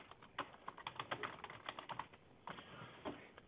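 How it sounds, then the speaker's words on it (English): Quick bursts of keystrokes on a computer keyboard while a message is typed into a CRM system, a close, dry clatter of uneven taps with short pauses between runs and no one talking. "then you just type in your message"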